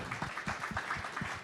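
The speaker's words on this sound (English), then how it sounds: "can we do one more round of applause for that amazing ceremony that we saw?" Audience applause at a Young Innovators panel event, a short stretch of steady scattered clapping at moderate distance, fairly faint.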